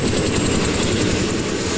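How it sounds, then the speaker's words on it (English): High, steady turbine whistle from a super modified pulling tractor at a tractor pull in Wheatland, Missouri, a continuous loud whine with a rumbling roar beneath, no voices. "You hear the whistle come up, and then it gets quiet right before those turbines launch."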